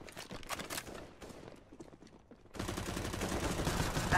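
Rapid gunfire in a first-person shooter game, with dense bursts of shots and a sustained, louder volley in the second half, close and continuous with no talk.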